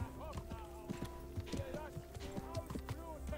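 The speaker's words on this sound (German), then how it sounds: "Was bist du denn für ein kleines, süßes Pferdchen?" Horse hooves clip-clop in a steady rhythm on a white horse in the medieval video game Kingdom Come: Deliverance, close and clear beneath a man's speech and background music.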